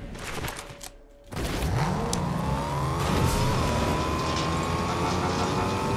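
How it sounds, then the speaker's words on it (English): A car in Fortnite zero build mode drives along with a steady engine drone that revs and climbs in pitch after a brief quiet gap, loud and close throughout. "Hop into a car and roll around."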